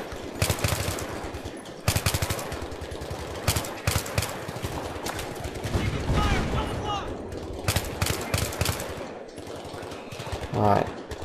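Battlefield 3 video game gunfire crackles in repeated sharp bursts and rapid volleys across the whole stretch, loud and close, with short gaps between salvos.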